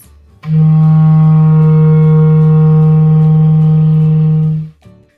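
A single low F on a clarinet, sustained for about four seconds, loud and close, with a rich buzzy woodwind timbre before it cuts off.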